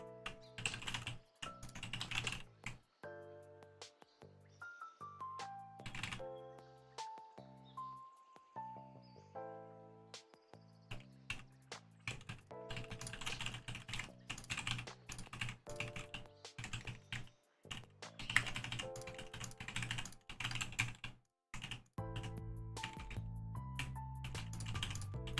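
Rapid computer keyboard typing, bursts of crisp clicks and key taps over sustained musical tones, steady and close with brief pauses between runs.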